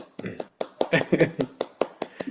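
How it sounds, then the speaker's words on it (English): A round of applause for a student after a good answer in a devotional class, heard as a few scattered, uneven hand claps close by with talk over them. "Big round of applause to her."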